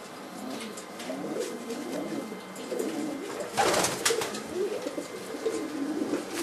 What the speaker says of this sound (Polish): Tutaj patrzymy, że jest to gołąb